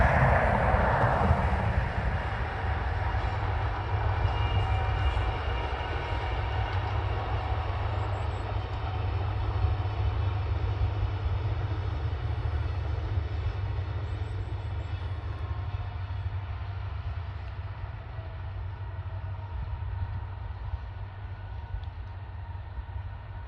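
Evening northbound passenger train on the West Highland line to Mallaig, usually two coaches, rumbles steadily with a deep low drone throughout, a brief louder swell at the start, then continuous rolling rail noise with no voices.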